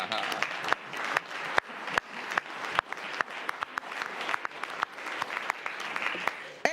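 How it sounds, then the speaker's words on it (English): A crowd applauds steadily, many hands clapping in a dense, sustained burst that carries on throughout without a break. "You may applaud."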